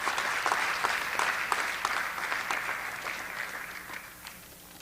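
Applause from the audience at a high school fall sports awards event, with distinct individual claps in a moderately sized crowd that gradually fades over about five seconds.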